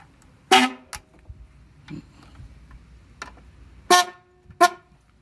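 A newly fitted aftermarket horn on a Mazda RX-7 FD3S sounds in short, loud, close blasts, one at the start, then a quick double toot near the end, with faint ticking and clicks between.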